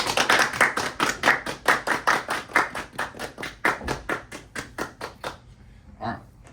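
A small group claps in a quick, even rhythm for a few seconds, crisp hand claps close by that thin out and stop, followed by a brief murmur.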